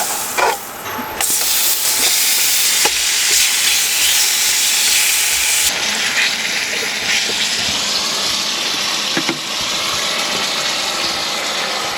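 Loud, steady steam hiss rises from breakfast cooking on an induction cooktop powered by a Bluetti AC70, a broad continuous rush that surges and holds for several seconds alone.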